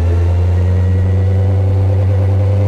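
Car fitted with a Honda CBR-1000RR motorcycle engine that revs to 14,000 rpm, running with a loud, steady, buzzing engine drone that stays constant and close throughout.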